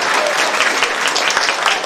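Loud, dense audience applause fills a village cultural hall at its inauguration celebration in Sărata, with continuous close clapping and no pauses.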